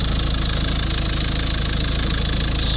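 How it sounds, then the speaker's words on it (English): A Peugeot car engine runs at a steady idle, loud and close, a continuous rumbling drone with a fine rhythmic knocking pulse and no voices. "Yep, the car is still running."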